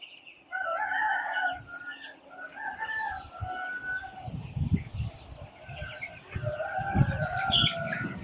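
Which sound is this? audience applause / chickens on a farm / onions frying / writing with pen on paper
chickens on a farm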